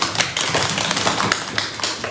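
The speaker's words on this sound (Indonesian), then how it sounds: "Tepuk tangan untuk kelompok 3" Classroom applause for group 3 during a teaching practice session, close and lively hand clapping from a small group of students, dense and uneven with sharp individual claps, no talking over it.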